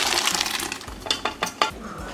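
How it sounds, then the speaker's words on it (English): Cooked peas and their water pour from a pressure pot into a cooking pot, giving a brief wet splashing with a few soft plops and clinks, close and fairly quiet, no talk. "We're gonna transfer our peas now into our pot."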